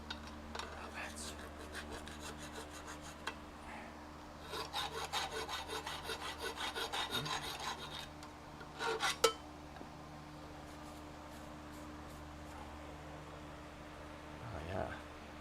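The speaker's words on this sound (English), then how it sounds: "Just have to hit it with the file and make sure there's no little bits of metal in there." A hand file rasps on metal on the rear end of a '91 Camaro with a posi rear end, in a quiet garage. Short bursts of rhythmic strokes come at moderate volume, then stop for a few scattered clinks.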